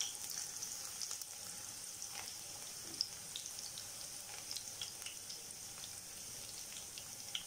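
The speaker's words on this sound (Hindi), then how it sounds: "ऑयल गर्म हो गया, गार्लिक चॉप करके रखा था वो ऐड कर देती हूँ" Chopped garlic frying in hot oil in a kadai, a steady soft crackling sizzle with scattered small pops, close up and without voices.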